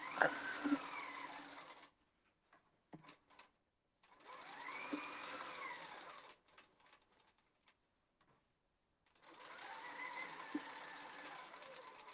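A sewing machine with a ruler foot stitches a quilt, running in three steady whirring bursts separated by quiet pauses with a few soft clicks and handling taps, close and moderately quiet.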